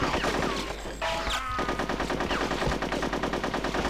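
Rapid machine-gun fire in Conker's Bad Fur Day rattles in fast, even bursts, loud and close, over a dense backdrop of game noise.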